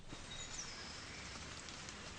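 Spring rain falling steadily near a pond on a country estate, soft and even hiss of drops across the whole stretch, faint and without voices.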